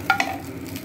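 Two bay leaves and two whole dried red chillies hit hot oil in a pan for a curry, giving a brief close sizzle with a couple of light clinks at the start.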